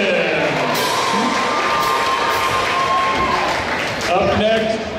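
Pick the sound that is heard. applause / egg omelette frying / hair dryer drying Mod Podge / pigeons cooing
applause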